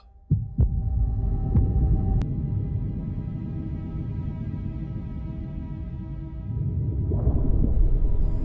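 A heartbeat sound effect for prey in dark underwater depths throbs low and muffled beneath a deep, continuous hum, with a couple of sharp clicks at the start.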